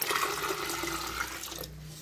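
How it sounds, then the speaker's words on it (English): Water poured into a container for a NodeMCU-based flood monitoring setup, a steady close splashing stream that fades near the end, heard alone. "so now I am inserting the water"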